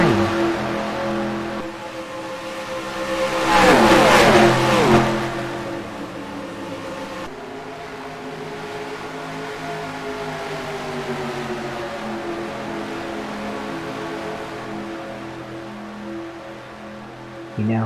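Stock cars roaring around Lowe's Speedway in a NASCAR Racing 2003 race, a loud engine swell passing close by, then a steadier droning pack of engines that holds on to the end.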